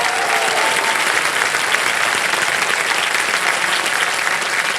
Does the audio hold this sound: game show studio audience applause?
yes